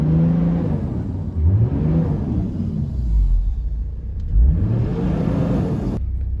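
A car's 1HZ diesel engine with a turbo kit revs up to 3,000 rpm and settles back in several rising and falling sweeps, fairly quiet and close, with a low rumble underneath and no talking.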